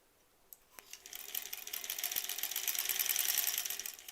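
Sewing machine stitching a granny squares quilt, a few clicks and then a fast, even run of stitching chatter that builds and holds close by.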